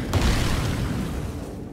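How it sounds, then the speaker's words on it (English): A deep booming explosion from the fantasy role-playing game Divinity: Original Sin, one loud burst with a rumbling tail that fades over under two seconds, heard alone. "the fact that there wasn't another explosion on top of that is kind of worrying me"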